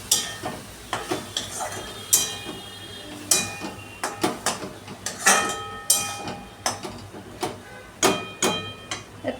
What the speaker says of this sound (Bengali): আবার নাড়াচাড়া করবো আমি।